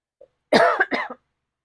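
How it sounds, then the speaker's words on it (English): A single sharp cough, voiced in two quick bursts, comes from a close woman in a quiet room after a tiny lip sound. "Excuse me, I'm going to cough."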